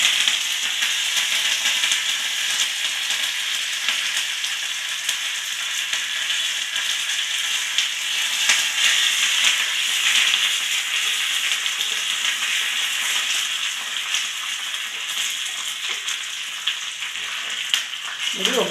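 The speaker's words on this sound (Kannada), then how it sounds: "ಒಗ್ಗರಣೆ ಮಾಡಿ ಇದಕ್ಕೆ ಹಾಕ್ಕೊತಾ ಇದ್ದೀವಿ ಚಟ್ನಿಗೆ." Urad dal, dried red chillies and curry leaves crackle as they fry in hot oil for a coconut red chilli chutney tempering, a steady close-up sizzle with a bright hiss that runs unbroken, with no talking.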